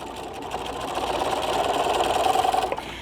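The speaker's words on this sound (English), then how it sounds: "I'm going to be stitching" A sewing machine stitches fabric for a zipper case in a steady, close whir that gradually builds and then stops abruptly, with no talking.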